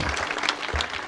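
An audience at a religious gathering claps for small children from a Warkari school, a brief, lively patter of applause with a voice faintly present.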